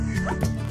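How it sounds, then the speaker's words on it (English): A plains zebra gives a single short, sharp bark that sounds doglike, close and fairly loud. "plain zebras bark like dogs"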